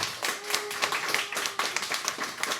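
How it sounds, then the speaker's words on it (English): A small group at a Marvel Snap tournament gives a short round of applause, heard as fairly quiet, uneven individual claps that continue throughout. "give a round of applause, everybody, to DMONEY"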